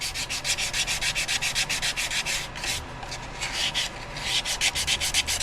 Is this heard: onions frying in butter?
no